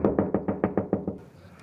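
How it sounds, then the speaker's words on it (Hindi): Knocking on a house door at night: a steady run of about eight firm, close knocks, evenly spaced, followed by a quiet, hissy pause. "उनका दरवाज़ा किसी ने खटखटाया"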